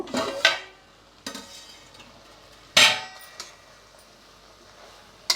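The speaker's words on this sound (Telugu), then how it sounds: "నీళ్ళు పోసి మూత పెడదాం" Several sharp metallic clangs of a lid set onto a pot, spaced a second or two apart, with quiet gaps between them.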